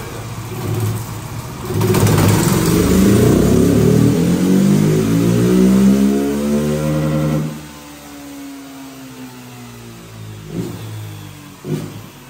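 A flex motorcycle running on diesel fuel revs hard and accelerates through its upper gears, the engine note climbing loudly in sweeping pitch rises, then dropping to a quieter drone after the last shift.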